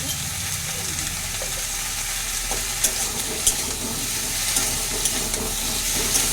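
Vegetables for a sour fish curry fry in a little oil, a continuous close sizzle with faint stirring scrapes and small clicks throughout.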